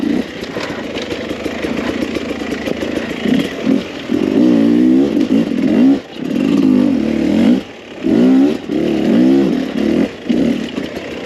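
A 2021 Beta 300 RR two-stroke dirt bike ridden on single track, its engine revving up and down repeatedly with sharp throttle bursts and brief drops between pulls, loud and close, with no talking.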